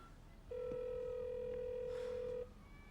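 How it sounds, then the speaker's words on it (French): A telephone rings out unanswered with one long, steady electronic tone lasting about two seconds, clear and close, with quiet room background before and after. "C'est drôle que personne ne réponde au téléphone."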